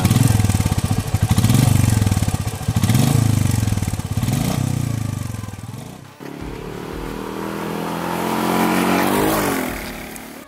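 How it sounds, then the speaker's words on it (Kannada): A Royal Enfield Meteor 350 motorcycle's exhaust thumps loudly and close by in a rhythmic single-cylinder beat, swelling through several revs before settling into a steadier, slightly smoother run. "ರಾಯಲ್ ಎನ್ಫೀಲ್ಡಿನ ಸಿಗ್ನೇಚರ್ ಎಕ್ಸಾಸ್ಟ್ ನೋಟ್ ಏನು ಸಿಗುತ್ತೆ ನಿಮಗೆ ಬೇರೆ ಮೋಟರ್ಸೈಕಲಲ್ಲಿ, ಸೇಮ್ ಎಕ್ಸಾಸ್ಟ್ ನೋಟ್ನ ಕ್ಯಾರಿ ಮಾಡಿದ್ದಾರೆ ಈ ಮೀಟಿಯೋ 350"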